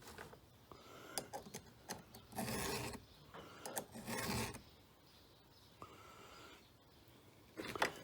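A file tool sharpens a chainsaw chain in repeated raspy strokes, some short and some longer, close and fairly faint, with brief pauses between passes.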